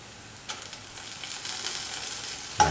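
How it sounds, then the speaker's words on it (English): Red chili sizzles and fries in a hot pan for a tofu masala, a soft crackling hiss that builds slightly, with a sharper burst of sizzle near the end; no voices. "Put in the red chili"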